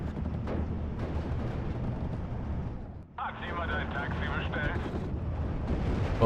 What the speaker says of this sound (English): 120mm mortar.